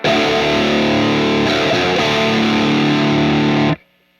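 Distorted electric guitar played through a Mesa Boogie Mark VII amp on channel 3 in Mark IV mode, a loud sustained wide-band chord with some rhythmic movement, then an abrupt cutoff into near silence.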